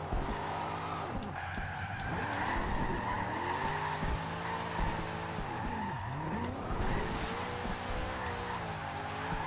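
A Dodge Charger Daytona with a drift setup slides in Forza Horizon 2, its tires squealing continuously while the engine revs rise and dip, loud and close throughout.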